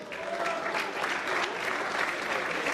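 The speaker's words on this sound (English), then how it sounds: "Give him a big round of applause" An audience applauds for a TV actor from a UK soap at a sports show, a dense sustained wash of many hands clapping at steady loudness for the whole stretch.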